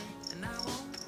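Crickets kept as live pet food give a faint, brief series of high, rapid chirps in a quiet indoor room, with nobody speaking.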